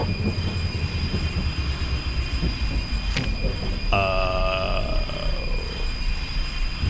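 A train in the survival game Fear Equation rumbles steadily, then a sharp metallic squeal of wheels and brakes rises midway and slowly fades as it slows.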